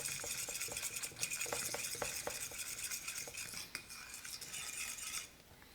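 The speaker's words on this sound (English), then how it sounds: "And stir it up really well." A spoon works through a thick vegan dark chocolate almond bark mixture in a bowl, making repeated scraping clinks at a quick rhythm that stop just before the end.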